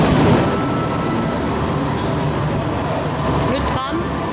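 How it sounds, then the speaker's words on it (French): A tram passes along a street in Bilbao, a steady rolling rumble with faint rail clatter and a brief squeal near the end, heard fairly close amid city background and people talking. "Le tram."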